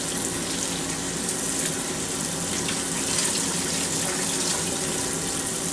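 Running tap water rinses chicken juice off a cutting board in a kitchen sink, a steady loud splashing hiss that continues without a break.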